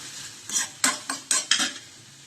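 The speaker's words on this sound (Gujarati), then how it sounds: "1 ચમચી જેટલો રેડ ચીલી સોસ એડ કરીને આપણે આને સારી રીતે મિક્સ કરી દેવાનું છે" A spoon stirs red chili sauce into a mixture in a pan before boiled pasta goes in, giving several short scraping clinks in an uneven rhythm, close and fairly quiet, with no talking.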